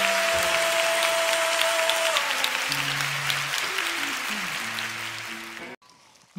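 Audience applause at a music festival as a singer is welcomed on stage, continuous crowd clapping with steady music notes playing beneath it, fading a little before cutting off abruptly near the end.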